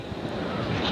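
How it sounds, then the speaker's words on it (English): Gusty wind buffeting the microphone at an outdoor tennis match at the 1987 U.S. Open, a rushing, rumbling roar that swells slightly toward the end. "Getting very windy again. Gusts."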